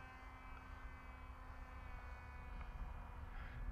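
Volantex Ranger 2400 RC plane in flight, a steady electric propeller hum with a constant whine that holds at an even level throughout, moderately distant and fairly faint.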